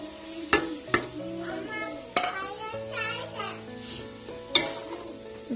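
Peas and fried potatoes are stirred into Gobindobhog rice vegetarian khichuri in a pot, giving a soft sizzle with a few sharp utensil knocks, while children's voices are heard in the background.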